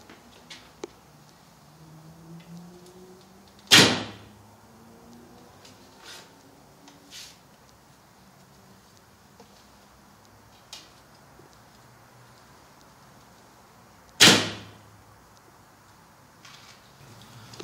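Two sharp archery bow shots ring out indoors several seconds apart, each a loud snap of string release followed by brief vibration, with quiet room noise and faint ticks between them.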